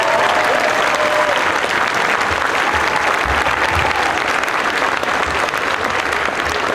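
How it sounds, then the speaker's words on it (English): An audience gives a loud, dense round of applause for a sixth grade band at a school concert, a continuous wash of clapping that holds steady throughout. "Let's give one more round of applause."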